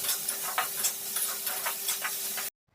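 Chopped onion with salt sizzling steadily in a pan, a continuous hissing fry with faint stirring scrapes, close and moderately loud, cutting off abruptly near the end.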